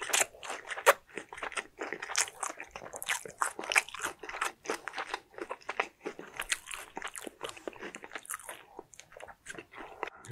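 Loud, close crunching bites and chewing on a BBQ Golden Olive fried chicken drumstick, crisp crackly bursts repeating steadily throughout with no talking.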